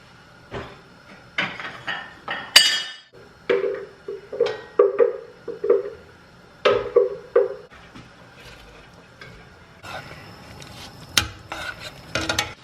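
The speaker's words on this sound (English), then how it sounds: "now I'm putting this back in the pot, putting the meat back in" Chunks of beef stew meat go back into a pot, heard as a close series of clanks, scrapes and spoon knocks against metal, with brief ringing pot tones and a faint sizzle between the irregular bursts.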